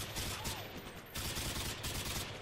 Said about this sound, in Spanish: Ya me estaba disparando